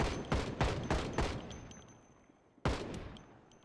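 Video game gunfire in a zombie survival setting: rapid bursts of shots in quick rhythmic volleys, then a pause and another loud burst, fairly close and dry.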